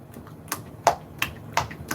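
Clapping heard in a played-back video: a handful of sharp, sparse, fairly faint claps at uneven intervals over low background hum, with no talking.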